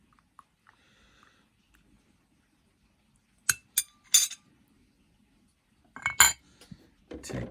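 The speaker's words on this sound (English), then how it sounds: "Give it a little stir." A spoon clinks against a cup in the teapot of a 1990s Swan Teasmade. There are a few sharp metallic taps and rattles in short bursts, close and fairly quiet, with silent gaps between them and no talking.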